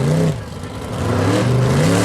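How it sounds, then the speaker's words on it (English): Two drag cars, a British Ford Capri and an Oldsmobile Firenza compact, rev loudly at the start line of a no-prep drag race at North Weald, engines droning with a brief dip then rising again. "the pony car from Great Britain in the left-hand lane, the Ford Capri, the answer to the Mustang in the States, up against the compact car"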